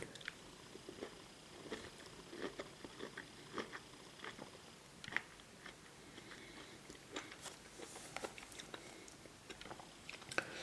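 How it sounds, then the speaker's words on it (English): Orange being eaten up close, with soft wet bites, chewing and juicy squishes scattered irregularly through the stretch, quiet and intimate with no talking. "We'll do some ASMR eating."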